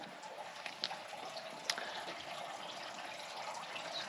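Backyard waterfall water feature at a Las Vegas home, a steady soft rush and trickle of flowing water with a few brief splashy accents, continuous and fairly faint.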